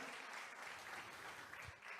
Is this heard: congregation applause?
yes